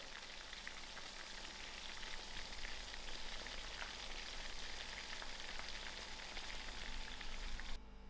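Chicken pieces fry in hot oil in a pan until golden brown, giving a steady, dense crackling sizzle that holds even throughout and then cuts off abruptly at the end.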